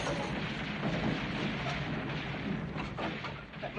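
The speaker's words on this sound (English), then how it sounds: "That noise, that big explosion," A heavy, rumbling explosion roars on as a dense, noisy din, with a few sharper cracks near the end, fairly loud and somewhat distant.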